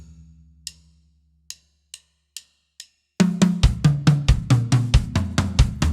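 Drum kit fill in the style of a famous song's fill: a few sparse, evenly spaced hits, then a rapid, loud run of tom strokes descending in pitch, played alone at close range.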